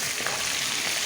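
Meat stir-fried in a pan on the stove gives a steady, close, broadband sizzle throughout, with no voices over it.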